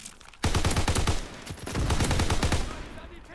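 Rapid gunfire in Call of Duty WWII, a beta multiplayer match, comes as a dense burst of sharp, close shots that continues for about three seconds after a quieter opening, with a voice faintly underneath.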